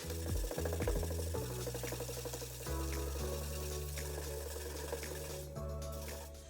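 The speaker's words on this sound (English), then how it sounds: "The Bondo has now hardened, so I'm going to go ahead and sand that flush." Hardened Bondo filler on a mid century modern nightstand being sanded with a power sander, a steady whirring buzz with rough scraping texture that runs continuously, fairly faint, no talk.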